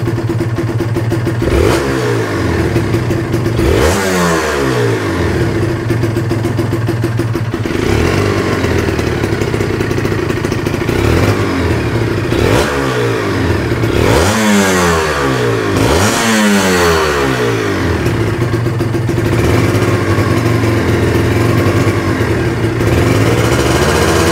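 A Kawasaki Ninja two-stroke motorcycle with a stock exhaust runs loud and close, idling with a steady buzzing note and blipped several times into short rising revs that fall back to idle.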